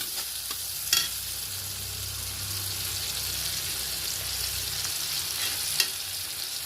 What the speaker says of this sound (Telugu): కొంచెం వేగనివ్వాలండి అండి చూడండి వేగింది